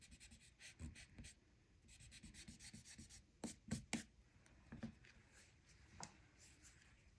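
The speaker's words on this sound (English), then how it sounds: "Then you can go back with your eraser," An eraser scrubs across paper to remove pencil lines, giving quiet, close, irregular rubbing strokes in short bursts, very faint overall.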